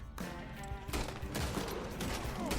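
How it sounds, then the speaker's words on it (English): Gunfire in the Red Dead Redemption 2 video game as a poacher is shot while hunting a legendary bear, with sharp loud reports over a dense, continuous game soundscape and no talk. "After shooting a quick poacher in the head"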